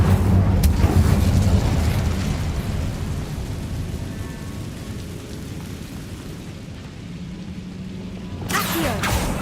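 A fiery spell cast in Hogwarts Legacy gives a loud rumbling whoosh that slowly fades over several seconds, ending in a brief crackling burst, with no speech.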